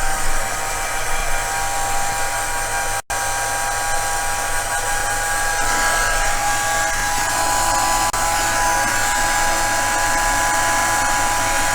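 A heat embossing tool runs on low power, blowing a steady, close whirring hiss with a single brief cut-out early on, then continuing evenly to the end.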